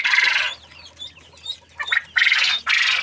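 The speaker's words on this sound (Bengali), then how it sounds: "দেখেন আমার কোয়েল পাখিগুলো ডাক দেয়" Quails kept in a backyard pen beside chickens give sharp, shrill calls in quick bursts, loud and close, with short pauses between the calls.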